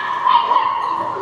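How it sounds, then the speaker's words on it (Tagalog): Dogs fighting outdoors in rainy weather, with yips, whimpers and short barks that are close and fairly loud. They sit over a steady hum, and voices can be heard nearby. "Ay, mag-aaway pang aso."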